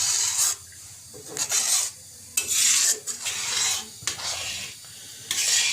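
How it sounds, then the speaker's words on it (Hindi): Custard milk stirred in a pan for kulfi, a spoon scraping and rasping against the pan bottom in repeated near strokes, with no talk. "तो 5-7 मिनट अब इसको हमें चलाना है।"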